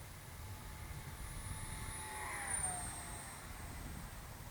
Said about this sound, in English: Some serious power in that EDF. It's very quiet EDF unit.